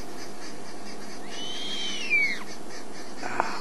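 A single long, wavering hoot from a giant eagle owl, clear and fairly close, over quiet background hiss, followed by a faint click.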